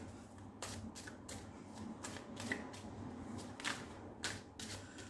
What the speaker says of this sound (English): I'll clear up and we'll shuffle again